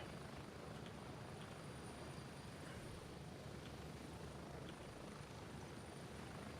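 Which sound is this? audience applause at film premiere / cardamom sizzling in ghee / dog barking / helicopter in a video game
helicopter in a video game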